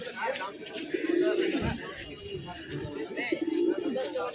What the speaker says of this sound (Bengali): বাবা এই পায়রাটা তো খুব ডাক করছে